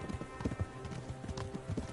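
Horse hooves in Kingdom Come Deliverance clop along in a quick, steady rhythm, fairly close but quiet, with faint ambient murmur beneath.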